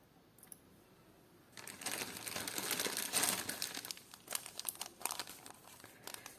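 Plastic jewellery packet crinkles and rustles while a small parcel of vintage pearl jewellery is unpacked, with quiet handling at first, then a dense, close burst of crackling and crumpling that continues in uneven bursts.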